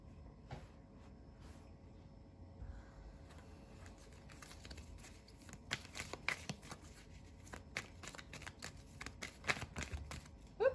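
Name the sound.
shuffling tarot cards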